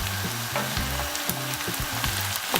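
Vegetables with fresh scotch bonnet pepper sautéing in a pan over medium heat for a Nigerian vegetable sauce, a steady close sizzle broken by repeated scraping stir strokes, with no voices.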